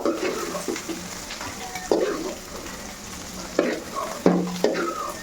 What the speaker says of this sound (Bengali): আমি পাঁচ মিনিটের মতো সময় নিয়ে ডিমটা ভেজে নিয়েছি এখন আমি ডিমটা উঠিয়ে নিব